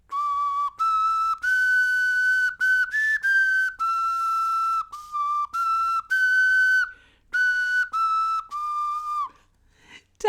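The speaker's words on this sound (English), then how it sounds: "It is basically a little whistle." A tiny 3D-printed whistle blown in a long series of short and sustained shrill toots, bright and piercing, with brief gaps, close and loud with no talking.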